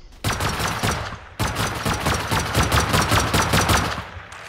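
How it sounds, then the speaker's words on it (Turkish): Explosive ammo fired in the survival game Rust, a long automatic stream of rapid, evenly spaced shots, loud and close, broken by one brief pause before continuing. "patlayıcı mermi sıkacağım şimdi"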